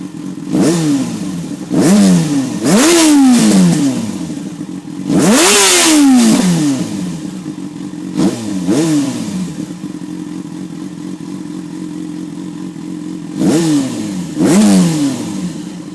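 A Yamaha FZ6 Fazer motorcycle fitted with a Leovince LV One exhaust, revved at idle in a series of about six sharp throttle blips that rise and fall between a steady, close idle.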